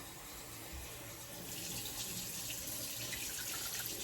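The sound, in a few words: pouring half cup of water into pan with ribs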